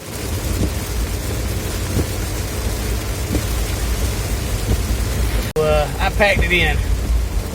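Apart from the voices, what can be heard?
rain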